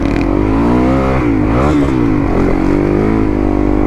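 Yamaha WR450F dirt bike engine revving steadily on sandy tracks, a loud, continuous mid-pitched drone that rises and dips in pitch through the middle as the throttle opens and closes.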